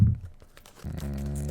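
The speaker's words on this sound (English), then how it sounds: "we're going to use the barbershop scissors on this one" Crinkly tearing and snipping as barbershop scissors cut into a plastic-wrapped trading card pack, close up, with short crunchy bursts and a brief quiet gap before more crinkling.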